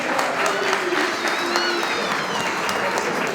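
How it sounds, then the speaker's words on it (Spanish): Audience applause at a 2023 graduation ceremony for a motorcycle and vehicle mechanics class, steady dense clapping throughout, fairly close, with faint voices mixed in. "Aplausos."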